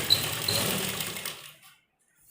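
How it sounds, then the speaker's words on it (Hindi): A sewing machine runs a double line of stitching along a baby frock in one steady whirring burst, close and clear, then stops and falls silent. "ये नीचे की तरफ से हम इस पर डबल सिलाई लगा देंगे"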